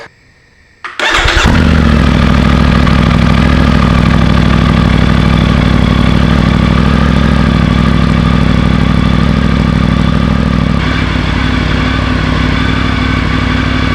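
A Triumph Tiger 900 motorcycle fitted with an Arrow exhaust starts up after a brief quiet moment, then settles into a loud, steady, deep idle close by with no throttle blips.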